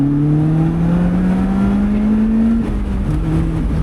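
A Lotus Elise sports car engine revs hard on an Austrian road, its loud, close tone climbing steadily, then briefly dropping at a gear change before pulling up again.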